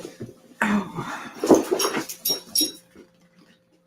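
A large dog moves around a motel room, with soft thumps and scuffling footfalls, panting and a few faint whimpers, close by and irregular, with no talking.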